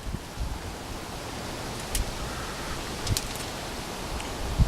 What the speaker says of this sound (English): Whoa, look at this wind blowing.